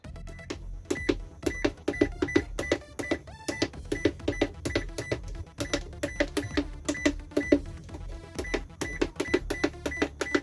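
Buttons on an Umnitsa VTE-300kg electronic scale being pressed one after another, each giving a short sharp electronic beep in a quick, uneven run of many tones, close and clear with no talking.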